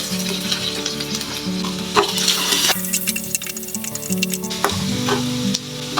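Steady, loud sizzling of chopped onions frying in a pan for chicken podimas, continuous crackle with occasional stirring scrapes, no talking.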